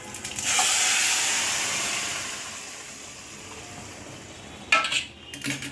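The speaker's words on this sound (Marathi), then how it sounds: "चांगलं बघा तडतडायला लागलं की डाळीचं फोडणी त्यात ओतायची" A spice tempering poured into varan dal gives a loud burst of sizzling hiss that fades gradually, followed near the end by a couple of metal clanks from the pot.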